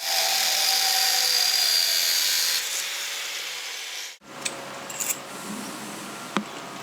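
An angle grinder cuts about 40mm off a piece of metal during a van bed build, giving a loud, steady whining grind for around four seconds. It then stops abruptly, and a few faint knocks and handling clatters follow.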